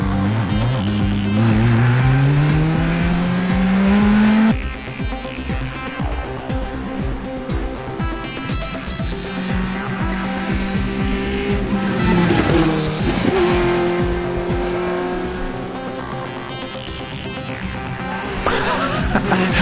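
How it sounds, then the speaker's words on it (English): Loud racing engines of a Mini race car fitted with two Yamaha R1 motorcycle engines roar and rev continuously, pitch climbing and dropping through gear changes, with two slightly mismatched engine tones running independently together. "Listen carefully to those two engines, and you can almost hear that they're running independently of each other."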